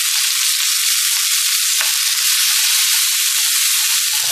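Red chilies frying in a wok for sambal belacan, a loud, steady broadband sizzle that fills the whole stretch, with a brief low stir or scrape near the end and no talk.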